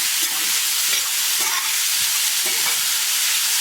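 Soaked flattened rice (aval) being mixed with sautéed onions in a hot pan, a continuous hiss and gentle sizzle with soft stirring scrapes, close and steady.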